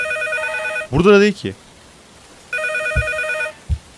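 A telephone rings in a horror video game, in two short ringing bursts separated by a pause, while a man exclaims loudly in between.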